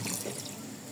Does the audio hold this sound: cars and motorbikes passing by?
no